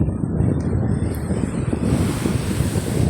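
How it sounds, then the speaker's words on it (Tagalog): Strong wind by the sea buffeting loudly and continuously, with the low roar of sea surf underneath. "Ang lakas ng hangin."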